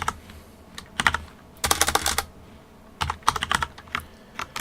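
Keys clatter on a computer keyboard as Python exception-handling code is entered, in loud bursts of rapid typing separated by short pauses, close and clear with no talking.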